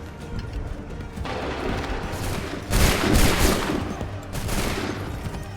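A musket volley fired by a line of soldiers in the video game Assassin's Creed 3, a loud, rolling crash of many shots that builds to a heavy peak, then trails off into scattered reports against battle noise.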